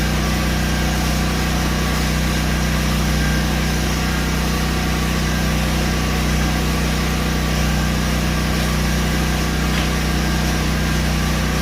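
A generator runs steadily in a shop, producing a loud, constant engine drone with a mechanical hum that holds unchanged throughout, with no talk.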